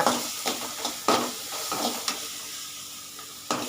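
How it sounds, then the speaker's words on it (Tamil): A steady sizzle of onions and green chilies frying in oil, with periodic scrapes and clinks of a spoon stirring in the pan, close by. "வெங்காயமும் பச்சை மிளகாவும் போட்டு வதக்கிட்டு இருக்கோம்"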